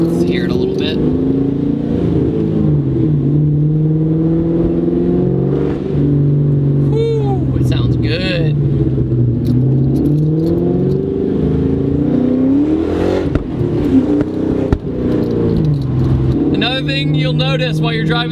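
A 2004 Ford Mustang Mach 1 V8 revving, with a deep rumbling engine note that rises and falls through several throttle blips, loud and close, and a voice speaking briefly over it.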